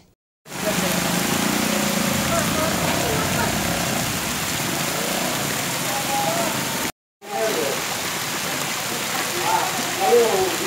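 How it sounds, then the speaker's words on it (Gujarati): Monsoon rain pours down in Kutch, a steady, loud hiss of heavy rainfall on surfaces that runs continuously, broken by one brief cut, with occasional sharper splashes. "ભાદરવાના ભૂષાકા રૂપી મેઘ મહેર કચ્છ પર વરસી રહી છે"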